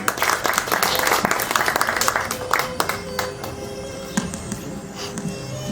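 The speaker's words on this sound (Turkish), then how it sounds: "Alkışlarınızla" An audience at a Türk Ocakları poetry gathering applauds to welcome a speaker to the podium, with loud, busy clapping at first that thins into scattered individual claps, while a brief voice and faint tones come through near the end.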